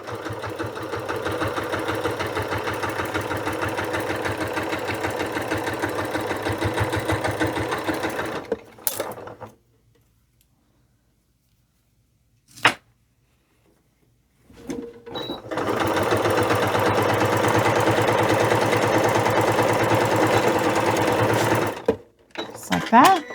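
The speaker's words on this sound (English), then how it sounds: "Let's sew our standard cuff. We will go ahead and backstitch," A sewing machine runs steadily while stitching a stocking cuff, loud and close, stops for several seconds with a single click, then starts up again and runs on before a final short stop.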